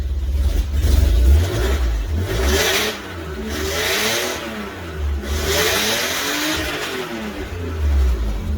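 A Volvo wagon being built into a race car runs steadily, its mid-pitched engine revving up and down in several broad swells over about eight seconds, fairly close and with no voices.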